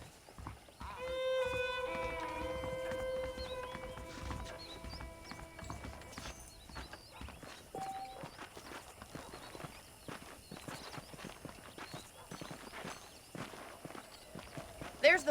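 Horse hooves clip-clopping in the Red Dead Redemption video game, a steady walking rhythm close by that carries through the whole stretch, with a soft musical tone and background ambience underneath.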